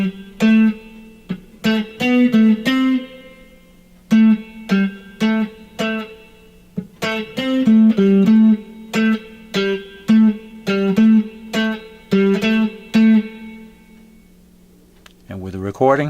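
An electric guitar plays a song's part slowly, with clear plucked single notes and short chord stabs in a measured, halting rhythm and brief pauses between phrases. A short low sound closes it.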